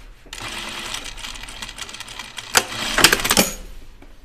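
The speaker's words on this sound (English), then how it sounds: "I'm just going to stitch in the ditch." A sewing machine stitching in the ditch along a seam of slacks, a short close whirring run with a few sharper clicks and clacks.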